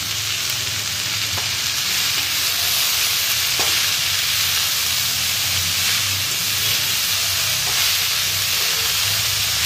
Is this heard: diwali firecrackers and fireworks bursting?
no